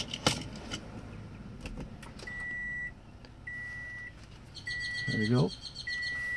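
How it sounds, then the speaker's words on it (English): Repeated electronic beeps from a Toyota Camry being switched on, four steady tones in a regular pattern with a brief falling chirp, over low cabin rumble and a few key clicks, while a person speaks briefly. "I'm gonna go ahead and turn the vehicle on"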